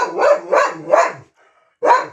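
A dog gives four loud, close barks, three in quick rhythmic succession, then a short pause before a final bark.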